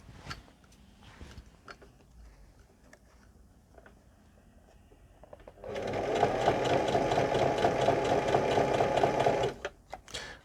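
A sewing machine stitches along the brim of a flat cap, running in one steady, rapid burst of about four seconds after quieter handling sounds and small clicks.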